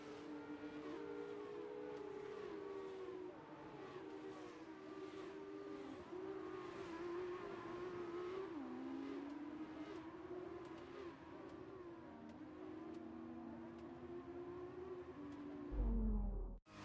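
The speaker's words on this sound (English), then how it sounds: "The formation lap gets underway for this, the Formula 2 race" Formula 2 race cars on a formation lap at a track in Hungary, a dense, continuous drone of several engines whose pitch rises and falls as the cars move at moderate pace, steady throughout with no talk.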